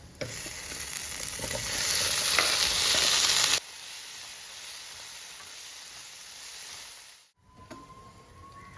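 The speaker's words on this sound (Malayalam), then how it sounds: "വേവിച്ച് വെച്ചിരിക്കുന്ന പച്ച ഏത്തക്ക ഇതിലേക്ക് ചേർത്ത് കൊടുക്കാം" Cooked green plantain going into hot oil for a Kerala-style curry: a loud, bright sizzle with stirring scrapes, then it drops to a quieter hiss, cuts out briefly and resumes faintly.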